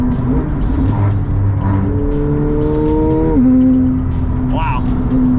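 A 1,000 HP McLaren 720S accelerates hard at speed, engine pitch climbing through rising gear pulls before a shift, loud and close, with people talking over it.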